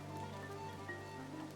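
Rain falls softly in a video game, a faint, even patter with gentle droplet texture and a low steady hum beneath it.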